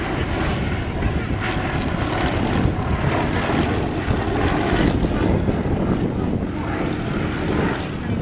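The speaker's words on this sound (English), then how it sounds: "Beautiful thing it is to have the shiniest propeller on any aircraft I've ever seen." Propeller aircraft with a very shiny propeller flying at an airshow, a continuous droning engine roar held steady throughout, with faint crowd or commentary underneath.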